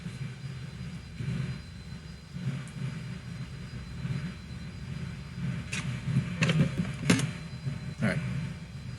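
Steady low roar of an airliner's JT8D-9 jet engines in the X-Plane 11 flight simulator, a continuous broadband rumble that swells slightly toward the end, with a few faint clicks on top.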